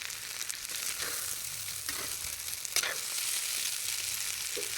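Noodles frying in a pan with spices, a steady close sizzle with bursts of crackle and occasional stirring scrapes throughout, no voices.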